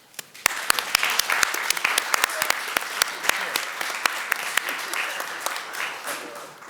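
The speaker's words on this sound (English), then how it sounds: "I'd like us right now to give him a round of applause" Applause at a digital inclusion meeting, sparse and individually distinct handclaps from a small gathering, close and crisp over a murmur of voices, building briefly then thinning out.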